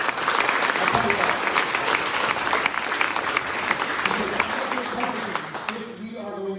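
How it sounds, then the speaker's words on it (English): Sustained applause from a large audience at a Liberty University Virginia GOP governor's debate, dense and steady for several seconds before thinning out, with a voice starting to speak near the end. "So let's give them a round of applause."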